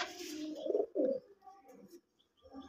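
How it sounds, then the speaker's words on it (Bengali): An orange Giribaz pigeon with feathered feet and yellow eyes coos in a loft, a couple of low rolling coos close by, followed by softer murmurs and quiet. "এটা হচ্ছে অরেঞ্জ গিরিবাজ।"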